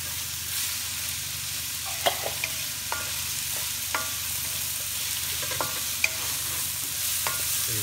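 Onions and ginger frying in a pan for pinakbet, a constant close sizzle with occasional sharp scrapes of a spoon or spatula stirring, no voices.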